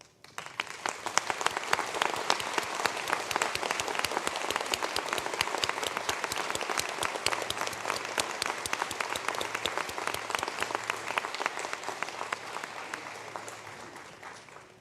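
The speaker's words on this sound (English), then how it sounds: "stand for a round of applause" A graduation conferring ceremony audience at ATU Sligo claps for a business degree cohort, a long, dense, steady round of applause from a large crowd that tapers slightly at the end.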